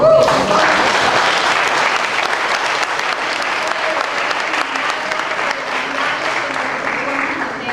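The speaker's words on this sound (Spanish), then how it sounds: "Un aplauso por el Señor." A church congregation applauds during a Sunday sermon, steady dense clapping that fills the room and holds loud for several seconds, tapering slightly toward the end.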